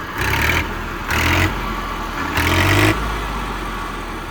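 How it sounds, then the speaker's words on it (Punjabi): A showroom-condition Massey tractor's diesel engine turns over in separate cranking bursts, then catches and settles into a loud, steady close-up idle. "ਸਟਾਰਟਿੰਗ ਦੇਖੋ ਟਰੈਕਟਰ ਦੀ"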